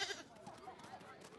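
A cartoon sheep bleats faintly at a petting zoo, quiet and brief, with background chatter from the animated scene.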